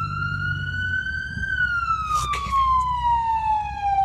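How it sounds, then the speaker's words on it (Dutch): A 1970s police car siren in a Need for Speed game wails loud and close, one long tone sliding up and then down, with some clattering noise underneath. "De sirenes staan ook aan."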